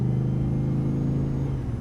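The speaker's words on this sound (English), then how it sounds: "this is driving inside the truck with the new exhaust system put in." Chevrolet Silverado pickup with a new exhaust of Super 10 mufflers and an X-pipe, heard from inside the cabin as a steady low engine drone and rumble that holds loud and even throughout.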